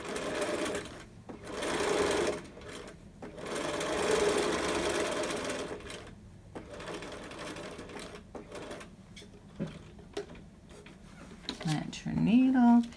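A sewing machine stitches a large adult fabric mask in short bursts of rapid buzzing, stopping and starting as the work pivots, close by, with a person talking at the end.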